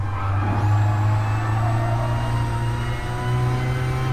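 A diesel car accelerates hard around the Nurburgring, its engine note rising steadily and loud from inside the cabin, dipping briefly at a short-shifted gear change before climbing again.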